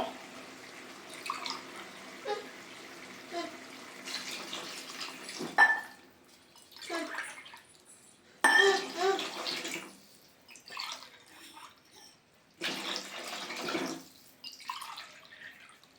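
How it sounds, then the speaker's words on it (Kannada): Water is poured from a glass into rice for vegetable pulao in several separate pours, each a short splashing gush with quiet gaps between. "ಇದೇ ಗ್ಲಾಸಲ್ಲಿ ನೀವು 1 ಲೋಟಕ್ಕೆ 2 ಲೋಟ ಥರ 4 ಲೋಟ ನೀರು ಹಾಕ್ಕೋಬೇಕು"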